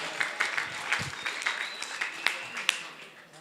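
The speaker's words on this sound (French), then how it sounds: "Est-ce qu'on peut applaudir pour Archange?" A small audience claps for Archange, a gospel singer, at a rumba congolaise show, with sparse individual claps rising over a quiet room for a few seconds.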